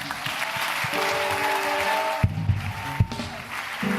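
Applause from the audience at a church broadcast, a steady wash of clapping with a few sharper claps and other sounds mixed in toward the end.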